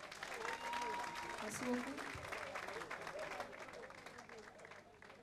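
An audience applauds a ten-year-old child DJ, a steady patter of clapping from a crowd that tapers off, with a host's voice speaking over it.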